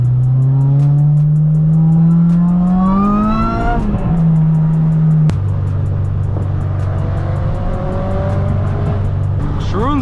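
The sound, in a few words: all-wheel drive car revving and accelerating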